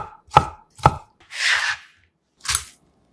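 A knife cuts cherry tomatoes into small pieces on a cutting board, making two crisp, close knocks, a soft scraping sweep, and another chop.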